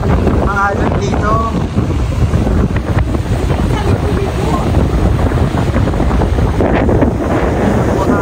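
Ocean waves washing onto a sandy beach at San Juan, Laiya, Batangas, with strong wind buffeting the microphone; a constant loud roar of surf and gusts, and a voice speaks briefly near the start.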